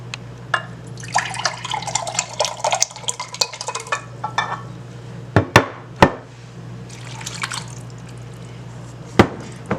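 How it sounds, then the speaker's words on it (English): Chicken stock is poured from a cup into a cooking pot, a splashing liquid rush followed by a few knocks and clinks of the pot, close up over a low steady kitchen hum. "I think 1 might not be enough, so I'm gonna pour another cup."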